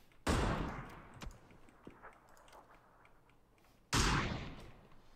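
Two sharp, loud gunshots crack out about three and a half seconds apart in the PUBG video game, each with a ringing decay as the player is fired upon, with faint ticking in between.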